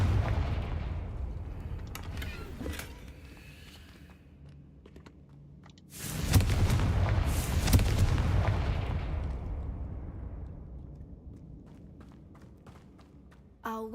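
Confringo blasting spell explosions in the Hogwarts Legacy video game: one big booming blast with a rumbling tail that slowly fades, among lighter in-game clatter and ambience, with a sharp crack near the end.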